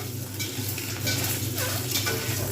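Boiled eggs coated in chili and turmeric powder fry in a pan, giving a steady close sizzle broken by soft scraping and stirring sounds, with no one speaking.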